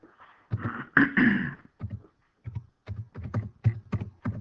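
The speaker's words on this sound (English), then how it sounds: "We can free type in here with our keyboard" Typing on a computer keyboard while free-typing text into an assessment form, heard as irregular clusters of close key clicks with short pauses between the bursts.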